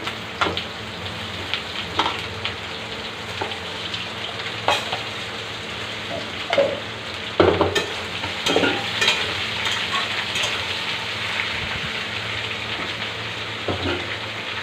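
Cut spiny gourd (kakrol) pieces frying with black cumin in a pan, a loud continuous sizzle broken by scraping stirs and sharp spatula clacks against the pan.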